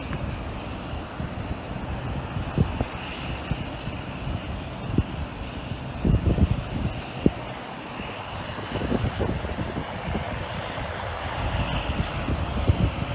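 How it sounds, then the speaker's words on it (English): Continuous jet engine roar from an Emirates A380 airliner arriving at Manchester Airport, steady and fairly loud, with scattered rumbling and bumps from the surroundings. "The Emirates A380 just coming in at an earlier time."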